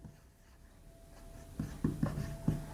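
A pen scratches across paper in a few short strokes, faint and close, during a sixth-grade maths lesson with no talk over it.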